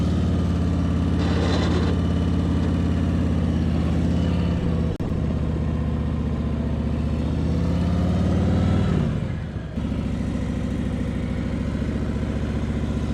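A new Harley-Davidson motorcycle engine runs steadily and loud for about thirteen seconds, with a deep low rumble, a swell in revs near the middle and a brief dip before settling back to a strong idle.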